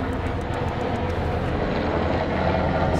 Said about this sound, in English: We got a full-on Apache helicopter flying.